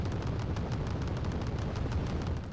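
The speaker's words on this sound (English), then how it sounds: "Oh, Flak Panzer going at it again." Rapid anti-aircraft fire from a Flakpanzer in a war strategy game, a dense continuous rattle of bursts with heavy low rumble, steady and loud throughout with no pauses.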